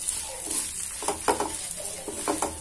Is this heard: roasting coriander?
yes